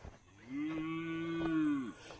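A single farm cow gives one long, steady moo up close, lasting nearly two seconds, heard alone against quiet outdoor background.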